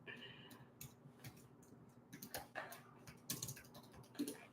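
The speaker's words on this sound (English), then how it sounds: "So I just had to type that before I forget." Faint, irregular tapping of keys on a computer keyboard, with scattered clicks and small bursts, heard quietly in a room.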